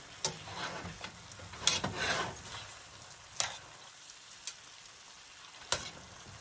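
Onions and garlic frying in a pan, a low steady sizzle broken by several sharp spoon strokes against the pan at irregular intervals, close and fairly quiet.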